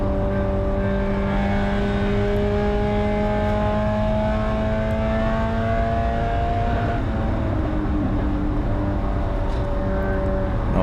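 A Mazda Spec Miata race car engine accelerates hard on track, a loud, steady rising drone that holds for several seconds before a brief shift and climb again, with no talk.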